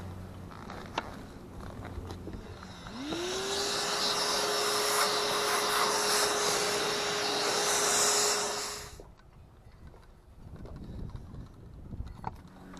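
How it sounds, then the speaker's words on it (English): A small electric drill spins up and grinds steadily for about six seconds while boring through a thick steel plate, a quarter to half inch, set in decking, then stops, with light outdoor background sound around it. "So I'm getting through it, but my little drill is just on fire here."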